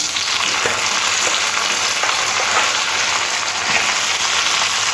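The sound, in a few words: potato and raw banana frying in oil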